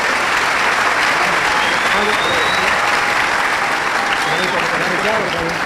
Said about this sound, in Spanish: un aplauso a los hermanos